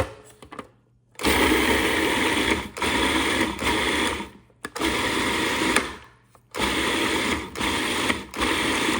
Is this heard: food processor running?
yes